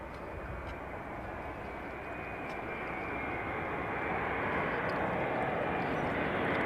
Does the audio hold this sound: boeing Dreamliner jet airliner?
yes